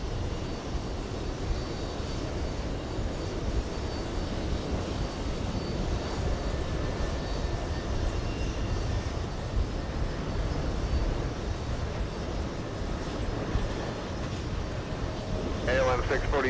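A KLM Boeing 787 jet airliner at JFK gives a sustained, broad engine roar that stays fairly even and near, with voices talking over it.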